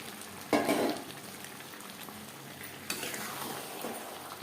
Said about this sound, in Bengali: মাছের সাথে আলু বেশ ভালো করে মিক্স করে দেব